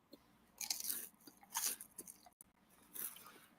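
Someone eats crunchy food close to the microphone, producing several crisp bites and chews in an uneven rhythm with quiet pauses between them, and no talking.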